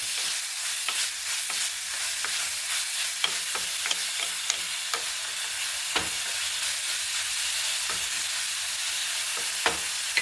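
Prawn curry masala is sautéed and stirred in a pan, with a soft hissing sizzle broken by frequent sharp spatula clicks and scrapes over about ten seconds.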